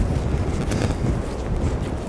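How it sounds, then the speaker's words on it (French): Strong seaside wind buffets the microphone near old coastal blockhouses, a steady dense roar with gusty low rumble and no other clear sounds. "on est quand même à la mer, donc ici il y a beaucoup de vent"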